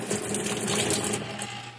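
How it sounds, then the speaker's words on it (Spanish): Hot water flowing into a Whirlpool washing machine in service mode, a steady continuous rush and hiss with a low mechanical hum underneath, close and even throughout. "Bien, está entrando agua caliente,"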